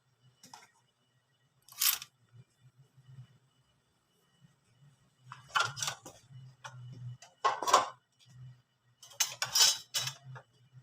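A spoon clinks and scrapes against a bowl of doughnut batter in several short bursts, stirring with pauses between, with a low hum underneath.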